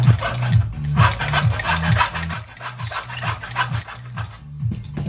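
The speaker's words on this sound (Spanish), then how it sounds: "colocamos nuestro perfil, agarramos nuestro arco con cegueta y recuerden, la cegueta debe ser diente fino" A fine-tooth hacksaw cuts through an aluminum window profile in steady back-and-forth strokes, each one a close, rasping scrape in an even rhythm, with no talking.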